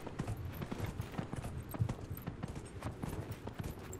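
Horse hooves in the video game Dragon Age Inquisition clip-clop at a steady trotting pace, soft and continuous, over a faint background wash.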